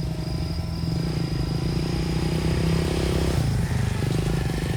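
A distant motorcycle engine hums steadily through the African bush at night, a low continuous drone that shifts slightly partway through, with a faint insect whine running alongside.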